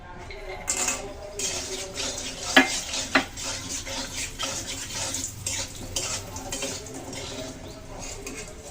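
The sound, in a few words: bori (lentil dumplings) frying in hot oil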